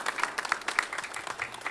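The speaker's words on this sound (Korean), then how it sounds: "우리 박수로서 환영하겠습니다." Light applause from a church congregation welcoming a member back to Sunday worship, a brief scattered patter of clapping heard at a moderate distance.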